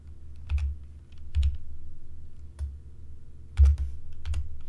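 Keys tapped on a computer keyboard in short, irregular clusters of soft clicks, close and fairly quiet, over a steady low background hum.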